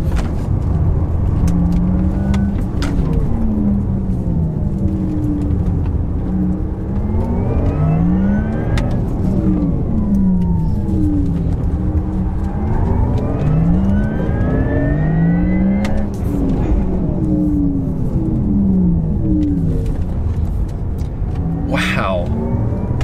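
A Porsche Taycan driven fast through tight curves gives a loud, continuous cabin drone with rising and falling electric motor whine as it speeds up and slows, and a voice talks over it.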